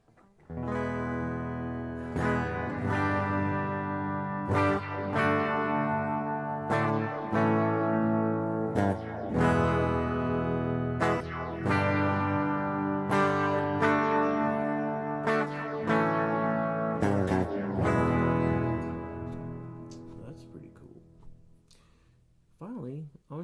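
An electric guitar played through a Boss ME-80's Terra Echo delay effect plays a run of picked notes and chords with a repeating echo trailing each phrase, steady and fairly loud, fading out at the end.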